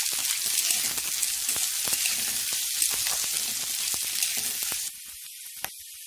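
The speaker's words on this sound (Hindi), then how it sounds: "इसमें डालेंगे कैप्सिकम, साथ साथ हरी मिर्च और मटर और इसको अभी 5 मिनट के लिए भूनेंगे" Capsicum, green chilli and peas sauté in a pan for pav bhaji, a bright continuous sizzle broken by stirring clicks and scrapes, dropping to a quieter hiss near the end.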